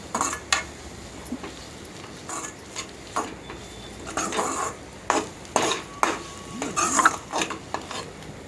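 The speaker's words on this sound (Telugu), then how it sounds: "బాగా కలిసే వరకు కలుపుకోవాలి." Fried rice ingredients stirred in oil in a pan, producing repeated scraping and clattering strokes of a spoon against metal over a faint sizzle, close and irregular.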